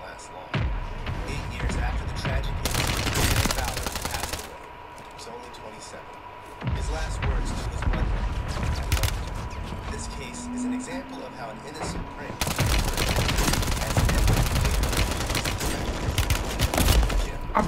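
Bursts of rapid gunfire from a military shooter video game come in dense stretches with brief quieter gaps, loud and close, while a voice speaks over the action.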